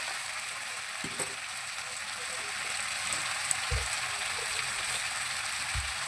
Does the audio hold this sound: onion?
yes